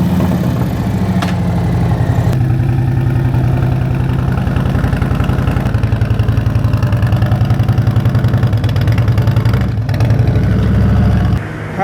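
Harley-Davidson motorcycle engine with stock headers running on a dyno, tuned with a Screamin Eagle tuner on its base map: a loud, close, steady engine drone with a pulsing beat that carries throughout and cuts off just before the end.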